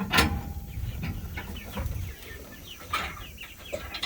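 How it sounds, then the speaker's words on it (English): Chickens cluck and squawk at close range in a ranch pen shared with turkeys during morning chores, short repeated calls overlapping in a busy farmyard chorus, with no talking. "The turkeys and the chickens are in there."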